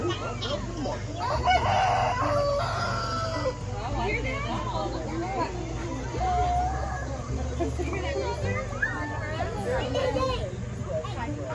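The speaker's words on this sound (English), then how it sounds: "So you've been watching some of our chickens and our ducks." Chickens on a farm cluck steadily in a close barnyard chorus, with roosters crowing now and then over a busy background of murmuring voices.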